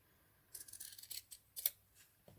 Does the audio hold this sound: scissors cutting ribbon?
yes